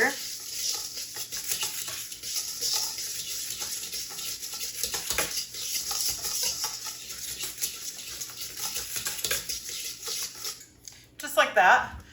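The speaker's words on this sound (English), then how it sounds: "I'm just going to kind of whisk that together." An egg mixture for a savory zucchini pie is whisked in a bowl, a quick continuous clatter of a utensil against the bowl that stops with a few louder knocks at the end.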